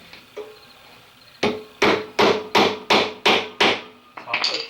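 A hammer taps loose Phillips screws on the door hinge of a 1969 VW Baja, one light knock and then seven loud, evenly spaced metallic strikes close up, ending in a short scrape.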